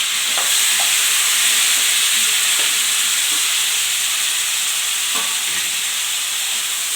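Tomatoes frying in a pan for tomato chutney while being stirred, a loud steady sizzle throughout with occasional soft scrapes of the spoon, close and continuous with no talking.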